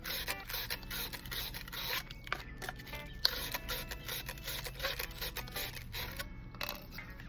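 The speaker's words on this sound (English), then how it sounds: "I'm just gonna go ahead and scratch some of these ends up with this sandpaper" Sandpaper scratches against the ends of kayak cart pieces in a run of short, close rasping strokes with no talk over them.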